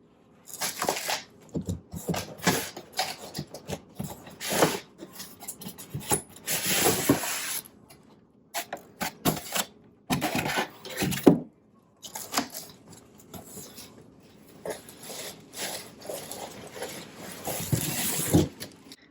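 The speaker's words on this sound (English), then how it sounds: "Let's pull out the TV and see how the TV looks." A 43-inch TCL Roku 4K TV is pulled from its box, giving bursts of rubbing, scraping and crinkling of packaging and foam, close and irregular with brief pauses.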